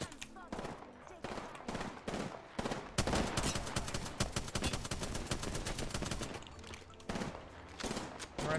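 Rapid automatic gunfire in the battle royale shooter Apex Legends, dense overlapping bursts of shots that rattle almost continuously, loud and close, with a brief lull before the firing picks back up.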